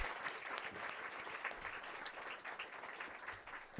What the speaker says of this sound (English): Let us all appreciate ourselves with another round of applause.